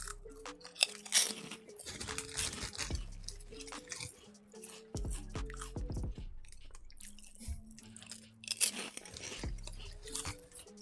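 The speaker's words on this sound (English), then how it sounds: "So let's have a taste of the bacon rashers." Crunchy Hungarian bacon rasher snacks being chewed up close, with loud, repeated crisp crunches and bites over about eleven seconds, heard alone with no talking.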